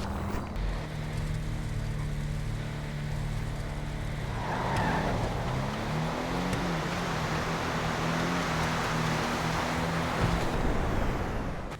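A G35 race car in a GTA street-outlaws drag race revs and accelerates with a steady engine drone, pitch climbing through gear changes under a broad rushing noise, loud and continuous.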